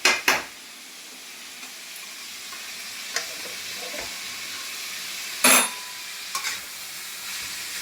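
Onion, potato and carrot sizzle softly in a pan while being fried for chowmein. A spatula scrapes and clanks against the pan a few times, with sharp metallic knocks standing out over the low, steady frying hiss.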